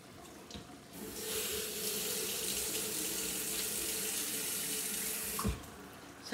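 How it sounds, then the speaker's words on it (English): Tap water runs into a sink while dinner is being cooked, a steady close hiss of flow lasting several seconds that starts and stops abruptly. "Let's add a little bit of water."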